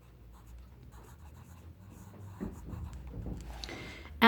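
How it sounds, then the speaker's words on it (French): Pen or pencil writing a single word on a paper page, a soft continuous scratching and rubbing that grows slightly busier toward the end, close and quiet with no talk. "Et je vais écrire un festival,"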